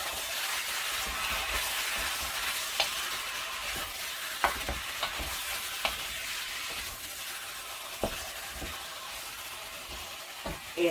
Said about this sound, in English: I add my pork into it. And mix it.